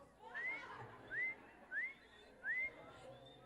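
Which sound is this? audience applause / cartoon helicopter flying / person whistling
person whistling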